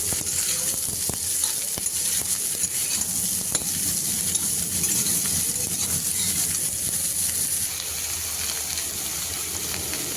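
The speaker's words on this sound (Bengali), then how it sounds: "আলুর সঙ্গে বেগুন আর ডাঁটাগুলো আরও 2 থেকে 3 মিনিট কষিয়ে নিতে হবে।" Potato, eggplant and drumstick stalks stir-fry in a hot pan, giving a steady, close sizzle with continuous scraping and stirring throughout and no talking.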